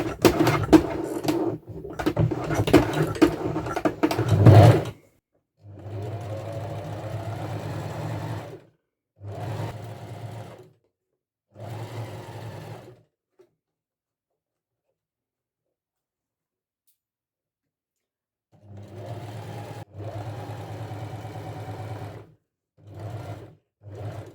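A sewing machine stitching fabric over wire runs in steady mechanical bursts of several seconds, each followed by a pause, close and alone.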